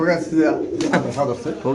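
Pigeons coo in soft, throaty bursts, partly mixed with people talking nearby.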